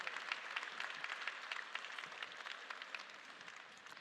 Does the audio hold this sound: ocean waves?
no